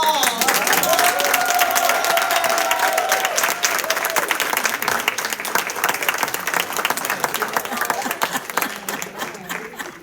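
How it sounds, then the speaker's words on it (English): An audience at a Black History Month spoken word event breaks into sustained applause to welcome an elderly aunt, many hands clapping steadily and slowly fading, with a brief tonal sound near the start. "Would everybody welcome her with a rousing applause?"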